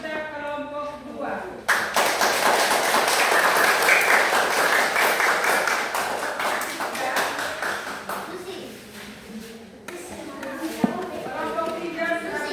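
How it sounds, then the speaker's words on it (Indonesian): Elementary classroom audience applauding a student group, a dense burst of many hands clapping that starts abruptly and holds steady for several seconds, with children's voices talking before and after. "sekarang kita memberikan aplaus kepada teman kita kelompok 2"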